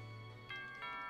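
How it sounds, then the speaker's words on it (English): A doorbell in the Pokémon Sword video game gives two soft, quick chime tones, one after the other, faint over a steady background hum. "Oh, the doorbell is a-ringing."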